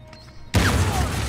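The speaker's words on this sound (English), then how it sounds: "And even the explosions feel far more realistic in this game than they did in the other games." Sudden loud explosion in the video game Uncharted 4, a heavy booming burst that cuts in abruptly after near-quiet and rumbles on without fading.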